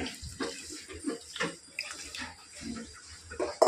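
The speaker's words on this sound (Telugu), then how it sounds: "ముక్కలు మునిగేటట్టు వాటర్ వేసాను" Water pours and splashes into a cooking pot of vegetable pieces in uneven gurgling bursts, close by and moderately quiet, with no talking.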